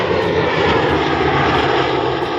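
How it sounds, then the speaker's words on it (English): Fighter jets passing overhead at an airshow, heard as a loud, continuous engine roar that fills the whole moment without any break, with no voices over it. "fighters passing overhead"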